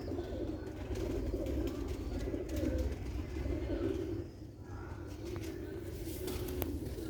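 Pigeons coo repeatedly in a rooftop loft in Sialkot, a soft low rolling murmur that runs steadily throughout with faint background noise.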